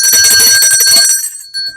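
A bright metallic bell rings rapidly in a quick trill for about a second, then stops and its tone fades out with a short faint ring at the end.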